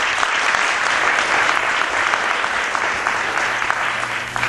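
A crowd at an inaugural event for Advocates for African American Elders breaks into loud, dense, sustained applause, a thick wash of clapping that holds steady throughout without pause.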